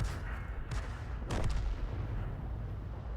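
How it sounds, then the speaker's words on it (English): A leFH18B2 artillery gun fires in a tank video game, one deep booming blast with a rumbling tail over a low continuous engine drone, followed by a softer secondary report. "We're firing at the Gabler destroyer."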